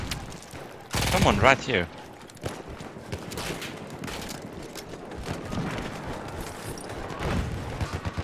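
A Villar Perosa submachine gun in Battlefield 1 rattles in a loud burst early on, followed by ongoing battlefield gunfire and crackle, while a voice speaks briefly over it.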